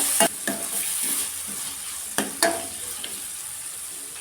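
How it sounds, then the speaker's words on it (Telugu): Soaked moong dal stirred and fried in oil in a pan, a steady sizzle broken by several scraping stir strokes, the loudest near the start and middle. "పెసరపప్పుని ఆయిల్లో 2 నిమిషాలు ఇలా కలుపుతూ ఫ్రై చేసుకోండి."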